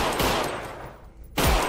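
Gunfire in a John Wick mod for the shooter Half-Life: loud, close bursts of rapid shots, a brief lull, then another sharp blast of fire.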